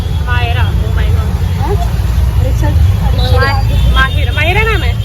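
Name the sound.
road traffic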